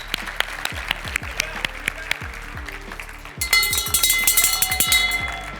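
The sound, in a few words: audience applause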